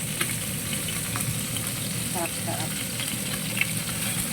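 Fish frying in a pan for lunch, a steady loud sizzle and crackle of hot oil with faint stirring, while a voice speaks briefly over it.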